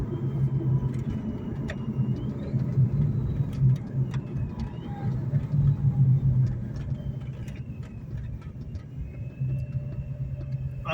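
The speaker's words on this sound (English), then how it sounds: "I don't know if the camera's picking up the supercharger, but it sounds pretty good." A supercharged V8 engine in a 2004 Ford Mustang Mach 1 drones steadily while cruising, a deep rumbling hum with road noise throughout and no voices.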